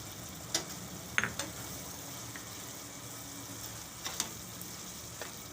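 Gathiya go into a sizzling onion curry in a pan, giving a steady, soft frying hiss. A few light clicks of a spoon against the pan break through the hiss.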